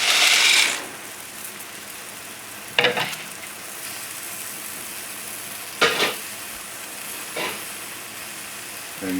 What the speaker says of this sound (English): Now I'm adding the penne.